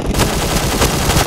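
Rapid automatic gunfire in a video game, a loud continuous burst of close shots that fills the whole moment.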